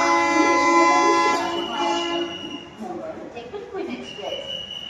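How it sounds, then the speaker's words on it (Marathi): The 12124 Deccan Queen Express pulls out of Pune Junction, a long sustained horn blaring at the start and then fading into a rumbling departure, with someone talking over it. "इथं आपली ट्रेन आता डिपार्ट व्हायला आलेली आहे."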